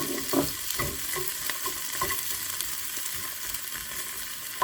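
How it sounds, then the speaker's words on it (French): Peppers sizzle and crackle in a frying pan while a utensil scrapes and taps as they are stirred, with a few louder clacks near the start and end. No one speaks. "On va y mettre les poivrons."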